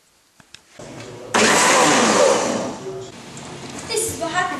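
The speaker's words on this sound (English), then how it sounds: "Send him to the blender!" Loud whirring blender motor kicks in abruptly and runs steadily for several seconds close by, easing slightly toward the end as rattles and clatter break through.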